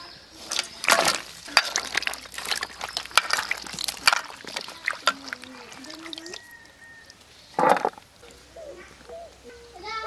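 Water splashes and trickles as a bottle gourd is washed for a duck meat curry in a rural outdoor kitchen, sounding in short, close bursts of pouring and sloshing, with people talking and a voice mixed in.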